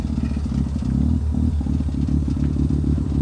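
A Mazda RX-7 rotary engine idles nearby through a new exhaust, a rough, burbling exhaust note, steady and loud, with a slight rattly clatter.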